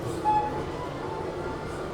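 A train pulls out of KSR Bengaluru City Junction on the Mysuru to Talaguppa route, a steady close rumble of rolling wagons with a brief high tone near the start.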